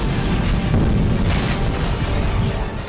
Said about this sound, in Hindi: देखिए कैसे एक के बाद एक धमाके हो रहे हैं।